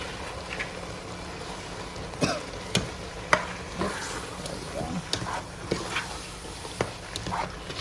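Asparagus and kale frying in a pan after meatballs, a continuous crackling sizzle with frequent clicks and scrapes of a spoon against the pan, close and moderately loud.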